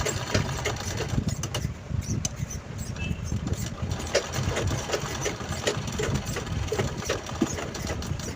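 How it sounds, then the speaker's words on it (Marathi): A sewing machine topstitching along the edge of a small cloth mobile pouch, with continuous close rattling whir and faint ticking, steady throughout with no talking. "कडेकडेने आपली आधीची शिलाई आपण जिथे लावलेली आहे तिथेच आपल्याला त्याच्यावरती शिलाई करून घ्यायची आहे"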